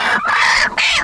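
A native village hen on a poultry farm of over 500 birds gives loud, close, drawn-out clucking calls in two sustained bursts with a short break, with faint farm background beneath.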